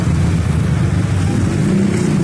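An automatic motor scooter rides through town streets in Ponorogo on a busy evening, its engine a steady, close, unbroken drone with road noise throughout.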